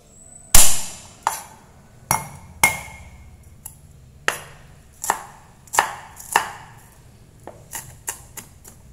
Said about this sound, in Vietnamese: mình sẽ băm cái phần hành và gừng này ra